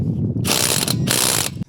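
A Ryobi power tool torques down fasteners in two loud, close bursts of whirring, ratcheting mechanical noise separated by a brief pause.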